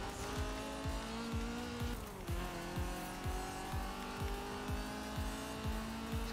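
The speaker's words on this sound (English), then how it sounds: "car sounds like a fucking lawnmower" A race car in the video game Forza Horizon 4 with a thin, buzzing, lawnmower-like engine note, revving in a quick repeated rhythm while tires squeal, steady and fairly close, with no talk.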